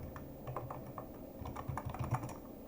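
Quick, soft key clicks from typing on a computer keyboard, a steady close patter of keystrokes at low volume with no voices.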